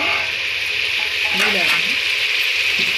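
Steady sizzle of food frying in a pan as a Telugu home dish cooks, a constant bright hiss running throughout with a few faint stirring clinks near the middle.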